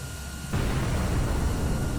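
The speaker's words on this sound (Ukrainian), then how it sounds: "потужний вибух." A sudden loud blast of an enemy infantry fighting vehicle exploding in combat bursts in after a short quiet stretch, then rumbles on as a dense, roaring noise.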